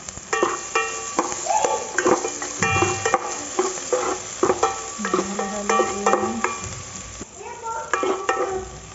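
Leftover fish and garlic being stirred in a frying pan, with a steady sizzle under repeated scraping and clinking of a utensil against the pan.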